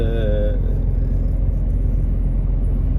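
A car travelling on the road near Hendek, Gümüşova and Düzce, its engine and tyres giving a steady close-up low rumble throughout with little change in pitch.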